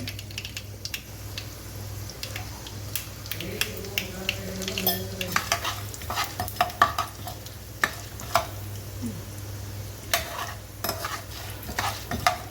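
Mustard seeds, chana dal and urad dal frying in oil, sharp crackles and pops over a soft sizzle, with spoon taps against the pan, close and irregular.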